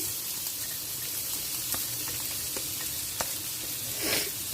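Cumin seeds and onion hit a hot pan and hiss softly with a steady, faint sizzle. Scattered small pops and taps of stirring come through, and a brief louder gush of frying near the end.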